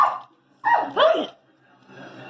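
A dog barks a few times in quick succession, loud and close, with a short gruff yelp followed by two sharper barks, then fades into quieter background sound.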